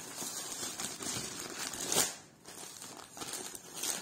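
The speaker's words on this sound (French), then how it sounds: "j'ai pris deux paquets de papier" Packets of scrapbooking paper are handled up close, giving faint continuous crinkling and rustling with a brief louder crackle midway.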